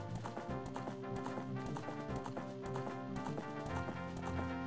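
Epona, the horse in Zelda Ocarina of Time, trots in with quick, rhythmic hoofbeat clip-clops set against a layered, tonal game music background, moderately faint and with no speech.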